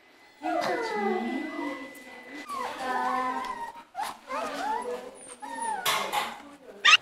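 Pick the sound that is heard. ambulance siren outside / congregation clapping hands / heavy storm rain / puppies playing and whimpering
puppies playing and whimpering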